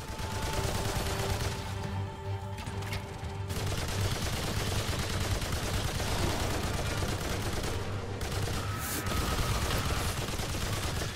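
Dense, continuous gunfire from the video game Remnant 2, loud and unbroken throughout with brief lulls, layered rapid shots filling the whole stretch.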